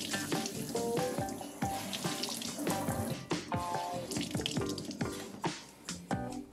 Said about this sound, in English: Now it's time to rinse and squeeze the pad until the water runs clear.